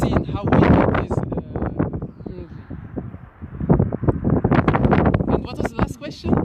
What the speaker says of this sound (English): you can hear that it is a strong wind